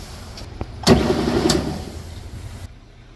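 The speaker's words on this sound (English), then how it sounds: "Here we are at the belt sander." A belt sander used to flatten a warped Ford exhaust manifold kicks on with a sudden loud burst, runs as a steady grinding roar for under two seconds, then fades out.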